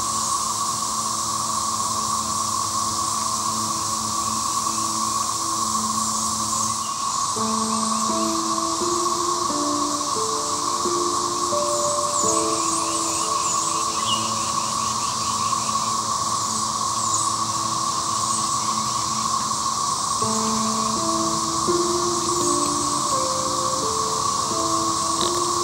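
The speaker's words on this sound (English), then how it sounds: "You can hear the constant drone of the male cicadas in the background." A constant, shrill drone of male 13-year cicadas in the southeastern United States fills the background without pause, steady in loudness throughout, with faint lower tones shifting underneath.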